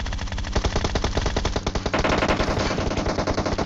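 Rapid automatic gunfire in the video game PUBG: dense bursts of loud shots in quick rhythm, continuous across the whole stretch with no voices.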